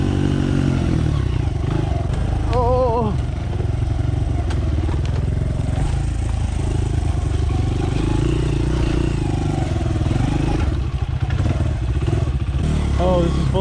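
A dirt bike engine drones steadily and loudly on a rough enduro trail, with clattering and scraping from the ride mixed in and speech faintly present beneath the constant engine noise.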